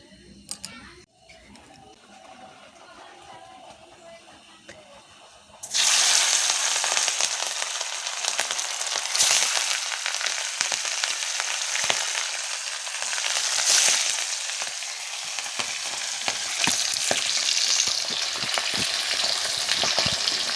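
Hilsa fish pieces and roe, rubbed with salt and turmeric, go into hot oil: a few quiet seconds of faint handling give way to a sudden loud, dense sizzle that crackles on steadily up close.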